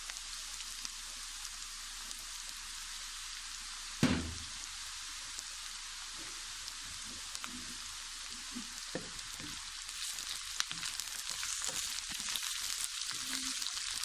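Bitter gourd and onions fry in a pan with a steady, soft hiss of hot oil, a single clack from the pan near the start, and the sizzle growing slightly louder toward the end.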